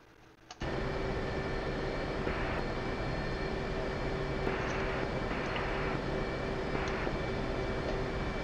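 A jet in the DCS flight simulator taxiing, a steady loud engine whine and rumble that starts suddenly and holds, with a few faint intermittent tones over the drone.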